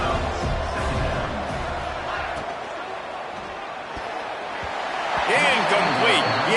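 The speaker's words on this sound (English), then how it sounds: "The Red Raider crowd rising to the occasion to help its defense on 3rd down." A Texas Tech football stadium crowd roars on third down during a game against Iowa State, a broad sustained wall of cheering and noise that swells louder near the end, with an announcer talking over it.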